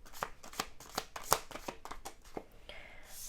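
Cards are shuffled and riffled in quick, soft bursts of flicking and tapping, close and quiet, with no talking.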